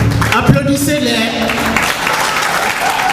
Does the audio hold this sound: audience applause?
yes